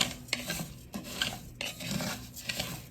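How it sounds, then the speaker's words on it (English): Spoon scraping and stirring rice grains through oil in a pan, a repeated gritty rasp in steady strokes with faint clinks of metal, close and moderately quiet with no talk. "stir that around so all of those rice gets a coating of oil on it"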